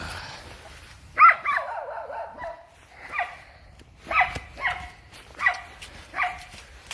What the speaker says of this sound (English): but it's still just following me and barking behind